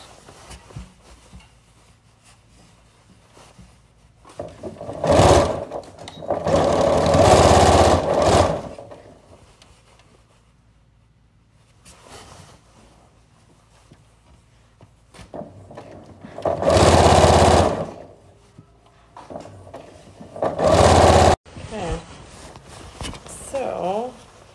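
A sewing machine stitches a parka shut in several separate loud bursts of a few seconds each, close by, with quiet gaps between runs where a person talks.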